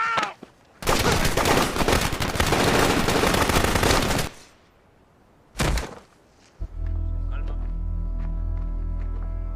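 Gunfire erupts in a Mexican cartel film scene: a loud, rapid burst of sustained shooting lasting several seconds, a short second volley after a pause, then a low steady hum.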